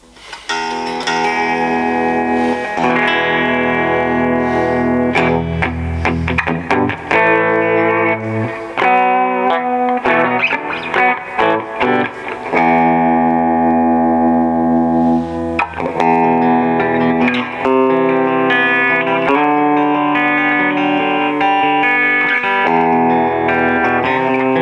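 A Peavey Raptor Plus EXP electric guitar on its bridge pickup plays a loud, continuous run of distorted, effects-laden chords and single notes with no talking over it.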